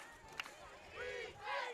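A high school football crowd at Edison cheering on defense, a distant roar of massed voices rising and swelling, faint and brief, with a single sharp knock near the start.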